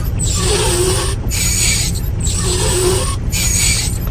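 Windshield wipers on a 1997 Kenworth T600 truck sweep back and forth in a steady rhythm, each swish a soft scraping hiss, repeating about every second over a low engine rumble.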